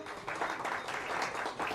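A crowd applauds candidates at a federation event for local election hopefuls, a steady indoor wash of many hands clapping at moderate volume, swelling and ebbing slightly.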